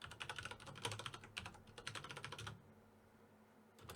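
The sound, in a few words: typing on a computer keyboard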